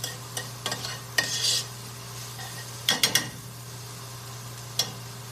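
Garlic sizzling softly in a hot pan, with a steady low frying hiss broken by several sharp scrapes and clinks of a utensil stirring it; no one speaks.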